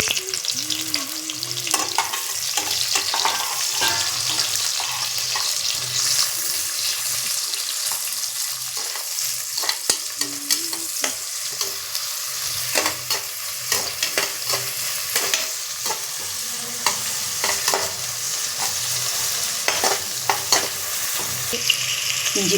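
Two large sliced onions frying in a pan for jackfruit biryani, with a constant sizzle under frequent scraping and stirring clatter from a spoon, fairly close, and no talking.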